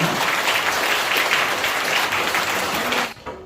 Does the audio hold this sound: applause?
yes